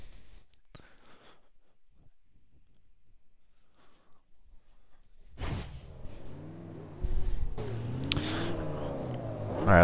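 A Lamborghini Huracán in Forza Horizon 2 sits near-silent, then its engine bursts into loud, rising revs with harmonic whine, dropping briefly before surging again even louder at the end.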